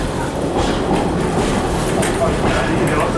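A train runs on rails into Newcastle Central Station, a steady close rumble with faint rhythmic clatter throughout.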